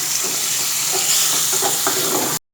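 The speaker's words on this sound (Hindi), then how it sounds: "चिकन को हम इतना भूनेंगे कि इसका कच्चापन ख़त्म हो जाए।" Chicken pieces frying in a pan for chilli chicken, a loud, close sizzle with faint stirring clatter that cuts off abruptly.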